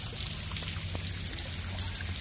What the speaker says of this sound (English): The water's coming out of that vent that they built up there.